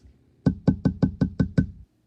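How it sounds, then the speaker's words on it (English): Seven quick, even taps on a hard wooden surface, close and fairly loud, evenly spaced, then silence. "Tap my desk."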